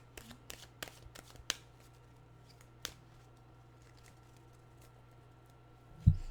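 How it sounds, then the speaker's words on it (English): Tarot cards are cut and shuffled by hand, a quick cluster of soft papery riffles and taps early on, then an isolated card snap and a final thump in a quiet room. "I better cut these cards before we sit here for a couple of hours"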